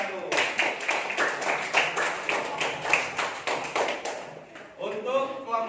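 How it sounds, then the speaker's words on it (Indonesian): A classroom group bursts into brisk, rhythmic clapping for one team during an Islamic studies teaching assessment, a few bright claps repeating steadily, then a voice speaks at the end. "Tepuk tangan buat kelompok satu."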